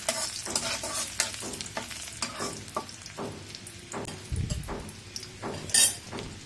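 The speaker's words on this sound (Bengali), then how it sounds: "রসুন এবং আদাকে বেশি ভাজা যাবে না," Chopped ginger and garlic frying lightly in oil left in the pan while making restaurant-style chilli chicken, with a steady sizzle broken by repeated spatula scrapes and clinks against the pan, close and fairly loud.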